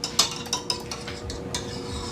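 A spoon stirs a chocolate chip mixture in a bowl, a few light clinks and scrapes spaced through a short quiet stretch, close by, with no talking.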